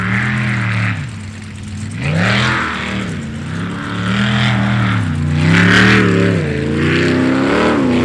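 Race car engine revving and surging continuously during a qualifying session at an ASBR STIHL Pro Racing round, loud and near with rising and falling pitch sweeps as the car accelerates and shifts.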